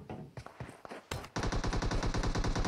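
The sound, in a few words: gunshots in a PUBG video game match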